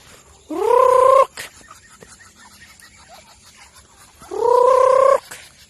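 Nearby ducks let out two drawn-out, nasal calls a few seconds apart, with quiet farmyard background between them.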